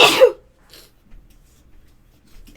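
A single sharp sneeze bursts out at the start, close and loud, then fades into near silence with faint rustles and a small noise at the end.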